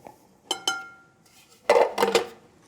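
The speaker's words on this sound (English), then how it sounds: "you can just put all the dry ingredients right in the bowl" Dry ingredients for molasses oat bread going into a mixing bowl, with two sharp clinks followed by a louder cluster of clattering knocks against the bowl, close and without talk.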